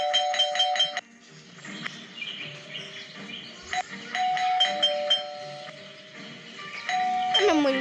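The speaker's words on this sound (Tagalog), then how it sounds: "There goes that stupid bell again." A bell rings in the Scary Teacher 3D video game, with bright repeated electronic ding tones returning several times over game music and chirpy effects, fairly loud and close.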